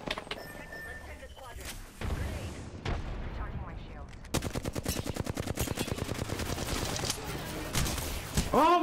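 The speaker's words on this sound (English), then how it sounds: "They're shooting at me." Enemy gunfire in a shooter video game: scattered shots at first, then dense sustained rapid-fire bursts crackling loud and close, with a voice heard intermittently among the shots.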